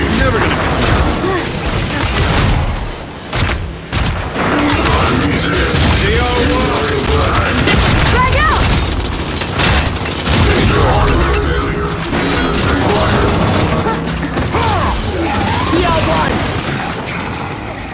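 Frag grenade blasts and gunfire during a Gears 5 Horde match on the Icebound map, loud booming explosions mixed with rapid weapon fire and clattering effects under shouted game voices.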